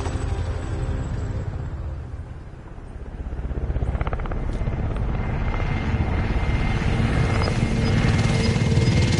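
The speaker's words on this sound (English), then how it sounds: "Enemy supply choppers above." Enemy supply helicopters in a video game, a loud steady rotor roar overhead that dips briefly around the third second and then builds back up, with game sounds layered in and no talking.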